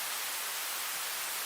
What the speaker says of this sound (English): The pink noise switches to a high pass.